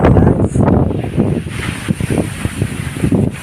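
Strong wind roaring across open water, loud and close with gusty buffeting against the microphone, continuous throughout with no talking.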